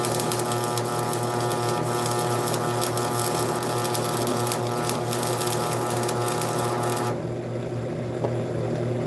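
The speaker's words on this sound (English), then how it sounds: "then you weld properly" Metal being welded, a continuous buzzing, crackling hum held steady and close for several seconds before it abruptly drops away, no voices.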